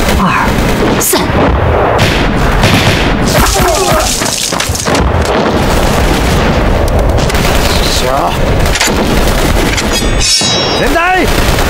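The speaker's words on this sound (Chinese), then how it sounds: "我喊一二三，咱们一起开枪，" A volley of rifle gunfire in a war film ambush against Japanese troops, with repeated loud booming shots and blasts over a dense, noisy battle din, shouted voices mixed in.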